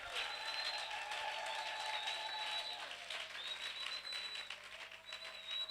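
Church congregation applauding in a steady wash of clapping, with a faint voice underneath.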